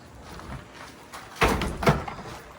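An old, dirty portable toilet's plastic door is pulled open with a hollow thud and rattling clatter, two close heavy knocks over faint background noise.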